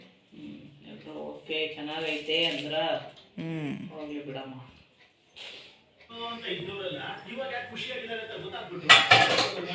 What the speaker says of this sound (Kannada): ಪಾತ್ರೆ ತೊಳಿತಾ ಇದ್ದಾಳೆ ಇವತ್ತು